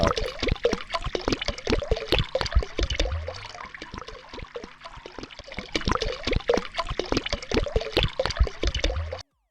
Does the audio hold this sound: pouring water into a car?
yes